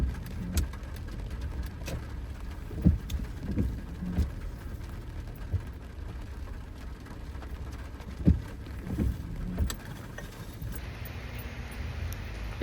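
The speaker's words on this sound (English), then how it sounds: "And there it is, back out in the rain." Rain falls outdoors as a steady soft hiss, with scattered clicks and knocks of footsteps or handling and a brief rise in the hiss near the end.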